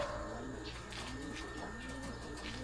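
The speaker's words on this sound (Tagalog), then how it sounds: "Kasi sama-sama yung kalapati natin pag lumipad." Pigeons coo steadily around a racing loft during a daily loft fly, the soft repeated calls overlapping at a moderate distance over a low constant rumble, with no one talking.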